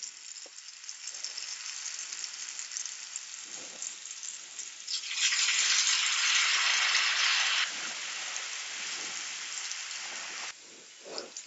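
Achu murukku, an eggless Diwali snack, sizzling in hot oil on a medium flame, a steady bubbling hiss that swells louder midway and then settles back.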